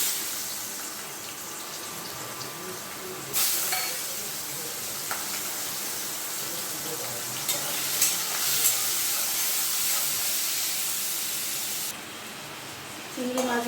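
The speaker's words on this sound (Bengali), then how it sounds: "চিংড়ি মাছটাকে একটু ভেজে নিচ্ছি" Prawns fry in hot oil in a wok, giving a steady broadband sizzle that runs the whole time, with louder bursts where they are stirred or turned and occasional clinks, close and fairly loud.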